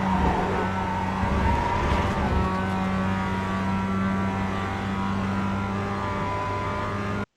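A Mazda MX-5 Cup car in the iRacing game accelerates at Laguna Seca, its engine a steady loud drone with a rising tone held throughout, alone without talk.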